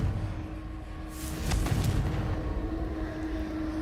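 A Confringo fire spell exploding in Hogwarts Legacy, a muffled booming blast that swells and rumbles for a couple of seconds over a low steady background drone.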